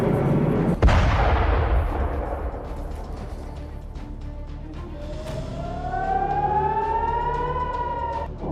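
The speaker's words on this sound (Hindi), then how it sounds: "तेल अवीव में सायरन कैसे बज रहे हैं उसकी आवाज" Air raid sirens wail in the distance over Tel Aviv during the Israel-Hamas war, slowly rising in pitch, after a sharp loud bang near the start.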